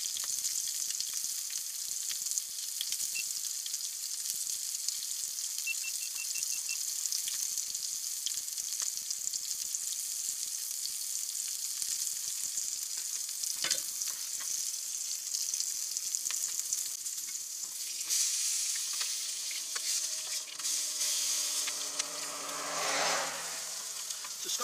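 A burger and bacon fry in a pan outdoors by a river, giving a steady, close crackling sizzle throughout, with a few louder bursts of spattering toward the end and no talk.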